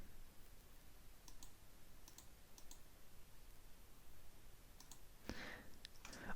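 Soft, sparse mouse clicks come in small clusters over a quiet room tone while someone works through website builder options, with a louder burst of clicks near the end.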